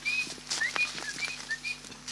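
Pigeons flying in to a feeding spot, a flurry of close wingbeats and rustling flaps layered with thin high whistling tones, loud and busy throughout.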